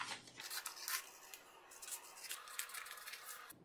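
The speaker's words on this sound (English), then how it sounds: "Now our section is joined and we can cut out our section." Scissors snip steadily through a paper piecing pattern section in a quiet room, with crisp, close cutting strokes for a few seconds.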